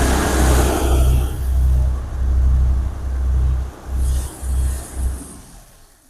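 Both engines of an AJ2340 dual reel jetter trailer run together, a close, heavy low rumble pulsing in uneven surges before fading out near the end.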